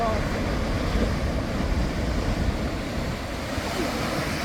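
Steady rushing water and churning surf in a wave pool at Los Gigantes, Tenerife, with wind noise, a continuous wash with no distinct breaks.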